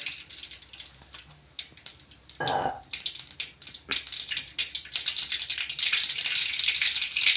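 Mustard seeds popping in hot oil for a tempering for stuffed chilli curry, a busy run of sharp crackles and spits that thickens toward the end, with a louder clatter midway.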